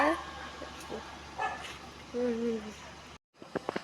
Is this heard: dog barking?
yes